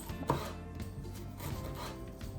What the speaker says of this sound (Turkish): Zencefili de rendeleyebileceğimiz gibi böyle incecik e, keserek elle de doğrayabiliyoruz.